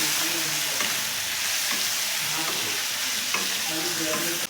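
Chicken for a Bengali-style kosha sautéing in a pan with tomato, green chillies, chilli powder and spices, giving a steady close sizzle broken by several scraping stirs, with no talking.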